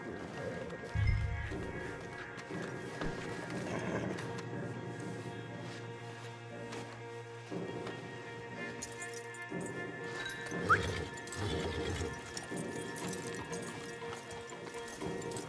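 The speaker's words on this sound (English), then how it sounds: "Javier, you're gonna lead the stallions." Hooves clip-clop rhythmically as several stallions trot in the video game Red Dead Redemption 2, with a horse snorting and light jingling over a steady background hum.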